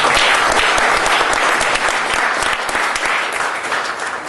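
An audience claps steadily for a guest being introduced on a program about the assassination of Malcolm X, a dense, sustained burst of applause that holds evenly for about four seconds and eases slightly at the end.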